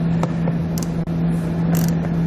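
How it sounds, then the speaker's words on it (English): A T15 Torx bit backs out screws while an EcoHitch hidden trailer hitch is installed on a 2019 Chevy: a steady motor hum with mechanical clicking and ratcheting, close and fairly loud, with a brief dip midway. "we'll grab that T15 Torx bit again, and we're going to pull all 3 of those screws out"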